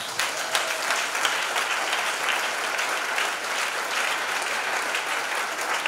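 A church congregation applauding together, dense sustained clapping that stays steady and fairly loud from start to finish, with no speech over it.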